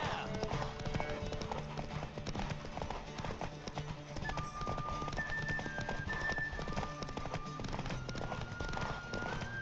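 Steady galloping hoofbeats of a horse in The Witcher 3: Wild Hunt drum on without pause, with occasional voices and faint music layered over the rhythmic clip-clop.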